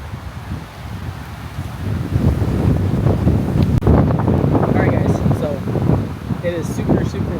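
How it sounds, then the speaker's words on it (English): Strong outdoor wind while biking in Japan blasts the microphone with a loud, gusty roar that builds and stays heavy, and a person talks over it. "It is super windy out here."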